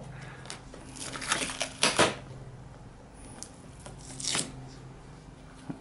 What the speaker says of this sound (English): this is a blue tuck tape, and I'm going to cut off a segment here, an inch on each side.